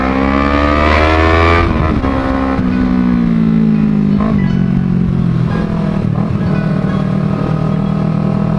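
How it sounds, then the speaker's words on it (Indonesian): A Honda CBR250RR motorcycle fitted with a custom M4-style slip-on exhaust revs loud and close, its raspy, high-pitched engine note climbing then dropping through repeated throttle blips while riding. "ini knalpotnya udah head on nih knalpot slip on custom based on M4 jadi suaranya itu cempreng cempreng banget"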